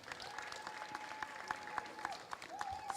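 Applause from the crowd at a national netball tournament opening ceremony, steady and moderately distant, with a sustained tone running through it.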